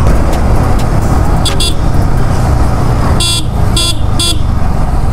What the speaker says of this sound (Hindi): अभी हॉर्न मैं दे रहा हूँ